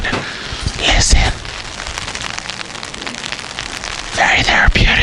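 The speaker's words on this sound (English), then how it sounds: "it's raining right now. You can hear the rain" Steady rain falls outside a garage during an intercooler install on a 2018 Ford Focus RS, a dense close hiss of drops on hard surfaces with a few louder spatters and bumps, and no speech over it.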